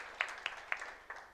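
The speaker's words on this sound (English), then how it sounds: "you can keep clapping" A handful of scattered, faint hand claps ring out in a quiet awards ceremony hall, four sharp separate claps spaced unevenly rather than full applause.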